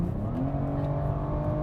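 BMW 3 Series with the Sport Punch exhaust rumbling loudly up close, a dense low engine drone with steady tonal hum and slight revving, no voices over it.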